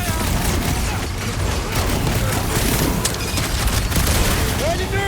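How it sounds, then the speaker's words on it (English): Rapid bursts of gunfire near a ship's reactor in Guardians of the Galaxy, loud and continuous with booms and clanking mechanisms, mixed with shouted voices and combat noise. "kinda nervous shooting around a ship's reactor!"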